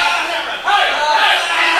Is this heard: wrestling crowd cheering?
yes